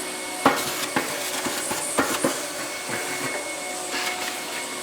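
A workshop dust extraction system pulls air through PVC pipe with a steady whooshing suction hiss, broken by several sharp knocks and clatters of debris rattling through the hose.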